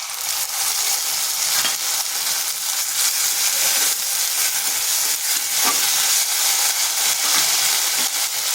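Spice paste hits onions already fried deep red in a hot pan, giving a loud, steady broadband sizzle and crackle that holds for the whole stretch, with no talking over it.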